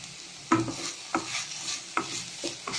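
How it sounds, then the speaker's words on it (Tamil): Spinach (ponnanganni keerai) being stirred in a pan after salt is added, with four distinct scraping strokes of the spoon against the pan over a soft, steady sizzle, close and fairly quiet. "உப்பு போட்டு கிளறி விட்டாச்சு."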